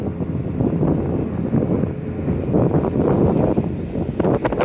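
Strong wind buffets the microphone in loud, uneven gusts, a continuous roaring rush with no talking.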